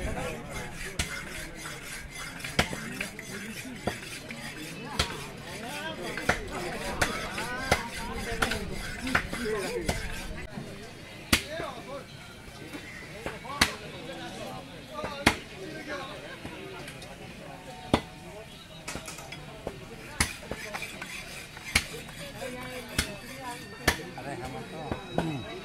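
A butcher chops pork at a busy pork market, sharp cleaver strikes landing at irregular intervals amid scraping and rasping, with people talking throughout the bustling scene.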